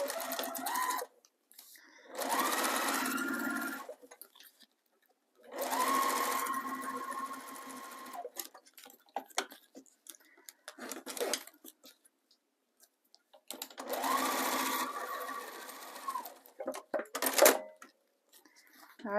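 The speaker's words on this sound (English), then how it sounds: "sew this exact same way, just close to that zipper, the zipper teeth" Sewing machine stitching a zipper onto a slippery candy-wrapper pouch, running in three close bursts of rapid whirring with pauses filled by handling clicks and rustles of the material.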